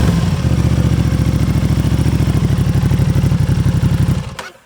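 Aprilia Tuono 660 motorcycle fitted with a cheap aftermarket exhaust, idling with a steady throaty pulse close by, then cutting off abruptly near the end.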